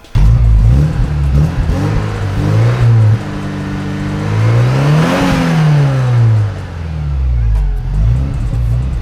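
A Porsche 944 Turbo engine running close by, idling and then revving up and back down in a couple of swells, loud and dominant with no clear speech over it.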